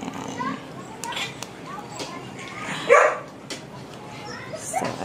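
A household dog barks and yips amid a busy outdoor scene with children playing and voices nearby, the loudest bark landing near the middle against steady background chatter.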